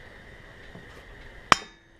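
A single sharp metallic hammer strike rings out once, dimpling a GoPro mount to make a countersink, with a faint background hum before and a short ringing decay after.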